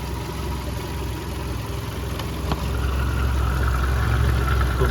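A 1.6-litre petrol Volkswagen Golf 5 engine idles steadily nearby with a low, even rumble and hum, and it grows slightly louder partway through.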